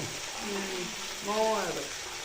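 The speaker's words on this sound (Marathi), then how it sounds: "आता टमाटो तेलामध्ये पूर्ण मऊ होपर्यंत आता शिजवायचं" Tomatoes softening in hot oil in a pan give a steady, moderate sizzle, with a voice briefly speaking over it twice.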